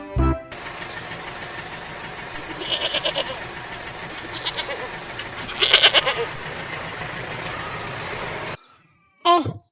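Goats bleat several times from livestock riding on a tractor carrying cows and goats, short cries over a steady engine drone, ending after a brief pause with one more bleat.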